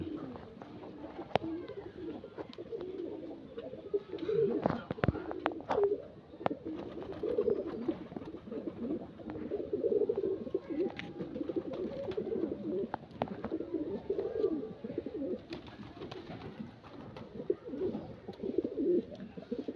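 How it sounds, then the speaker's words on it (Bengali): Many pigeons crowding a house rooftop after being given bathing water, a continuous chorus of overlapping coos with wing flaps and scattered knocks, and a person speaking intermittently nearby. "সারা ছাদটা পায়রায় পায়রা ভরে গেছে"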